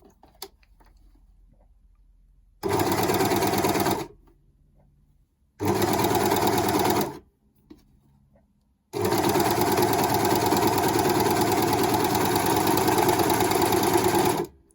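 A Janome 80030 overlocker stitching and trimming fabric runs in three bursts, two short and then one long steady whir, with quiet pauses between them and no talk.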